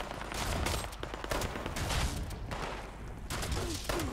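A pump-action shotgun fires in Fallout 76, giving several loud blasts in quick bursts with short gaps between them and a steady background of game noise.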